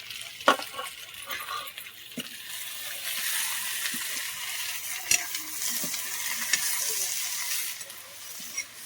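Leafy greens (saag) are stir-fried in a pan with a steady sizzle, broken by sharp clicks and scrapes of the spoon against the pan, and faint talk is heard briefly.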